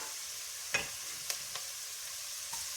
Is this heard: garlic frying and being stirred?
yes